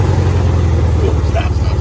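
A VW rail buggy with an 1835cc engine backing up in reverse, its low, throbbing engine drone running steadily and close throughout.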